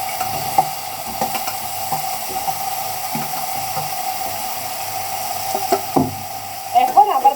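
Chopped tomatoes fry in hot oil for a village pond-fish curry, giving a steady sizzle with scattered stirring knocks and scrapes, and a brief louder burst of bubbling near the end.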